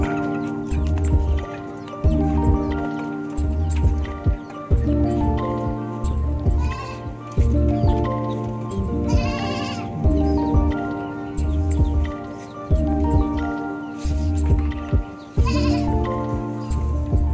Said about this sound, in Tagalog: Gutom na yung kambing kong yan.